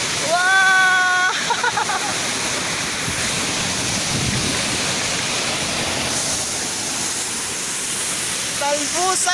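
Salvosa Falls waterfall in Pantukan, Davao de Oro, roars as a loud, steady rush of falling water, with voices and whistle-like calls briefly cutting through at the start and end.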